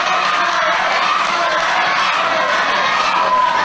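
A wrestling crowd at the Trabolgan Holiday Centre in Cork cheers for Steve Mulligan, a dense, loud wash of shouts and whoops from many voices, sustained without a break.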